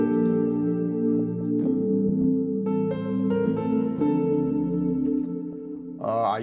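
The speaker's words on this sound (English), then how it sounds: "And then I added like a nice piano here." Keyscape cinematic piano in a deep house track built in FL Studio, playing sustained chords with scattered bright notes over a steady bed, ending with a short burst of brighter sound.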